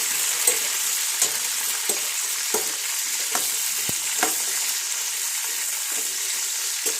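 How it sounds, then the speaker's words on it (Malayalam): Water apple pieces sautéing in sesame oil for a pickle give a steady, close frying hiss, with light scrapes and taps from stirring scattered throughout and no talk. "നല്ലെണ്ണയ്ക്കകത്ത് ഇട്ടിട്ട് പയ്യെ ഒന്ന് വഴറ്റിയെടുക്കാം"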